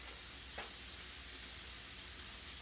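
Chicken frying in bacon grease in a skillet gives a steady, soft, close sizzle with one small pop, continuing evenly throughout.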